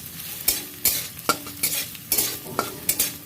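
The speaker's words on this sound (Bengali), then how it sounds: "ফোড়নের মধ্যেই নারকেলটা একটু তেলে দিয়ে নেড়ে নিলাম" Grated coconut fries in oil with whole-spice tempering in a pan for moong dal, with a spatula scraping about eight times in a loose rhythm over a continuous close sizzle.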